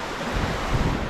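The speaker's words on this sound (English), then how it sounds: "The water is raging" A raging, muddy winter river churns along a fishing spot, a loud, close, continuous roar of rushing water with gusty wind buffeting the microphone and low rumbling surges, no voices heard.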